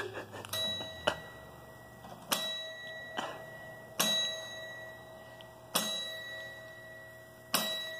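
A slow melody tapped out on a small mini piano, bright chiming single notes struck one at a time at uneven intervals, each ringing briefly before fading, with no talk.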